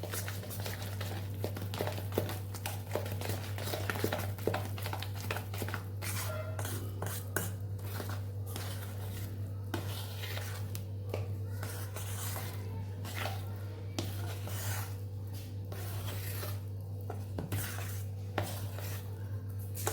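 Roti dhokla batter mixed in a bowl, a spoon clinking and scraping in quick repeated strokes over a steady low hum, with occasional talking.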